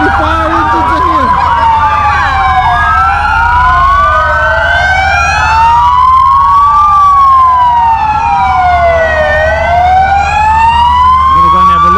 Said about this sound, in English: we got the fire engines coming through here at the moment